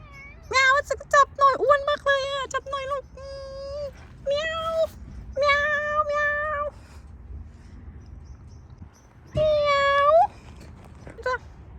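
A cat meows repeatedly and loudly close by, a run of rapid rising cries followed by several longer drawn-out meows, with soft speech faintly beneath at times.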